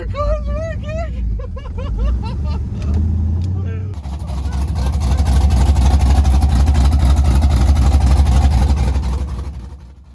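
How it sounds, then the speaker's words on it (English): A car engine with open headers idles and then swells into a loud, rumbling, raspy roar, while people talk excitedly over it near the start. "We're running open headers right now."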